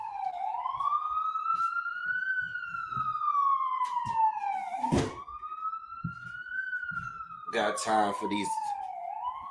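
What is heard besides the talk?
ambulance sirens passing outside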